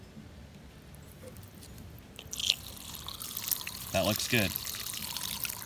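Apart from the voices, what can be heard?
water flowing from rain barrel valve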